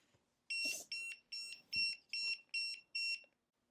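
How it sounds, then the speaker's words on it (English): A mini heat press beeps at auto shut-off: seven loud, high electronic beeps in a steady rhythm, each about a third of a second long, then quiet. "that beeped several times and then it went off"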